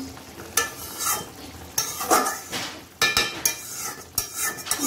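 A spoon scrapes and stirs a fish curry with coriander leaves in a pan, giving about five distinct, close scraping strokes with soft sizzling between them.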